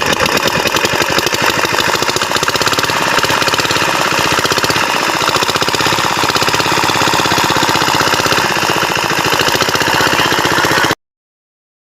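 A diesel engine water pump machine at a fishery in the Sundarbans starts and runs with a loud, steady knocking chug close by, unbroken throughout.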